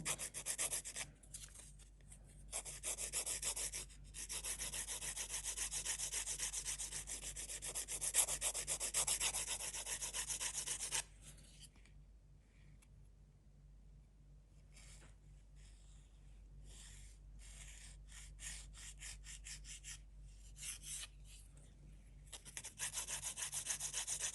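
A file rasps a natural fingernail into a pointed shape in steady, close back-and-forth strokes. It pauses briefly in the middle, then continues in quicker, lighter strokes.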